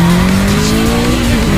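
Car drifting in a racing video game, with a loud, sustained tire squeal over the steady engine drone. The sound runs continuously and close, with no talk over it.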